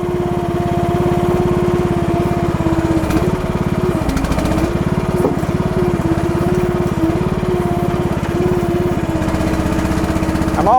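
Small engine of an AGT H12R Chinese mini excavator running steadily at idle, a close, loud, even chugging hum with brief hydraulic shifts and clunks, no talk.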